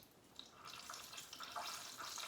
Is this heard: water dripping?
yes